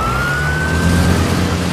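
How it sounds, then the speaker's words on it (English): An ambulance siren wails with a steady, slowly gliding tone over a loud rumble of traffic and engine noise, close and continuous throughout. "An ambulance met them on the way,"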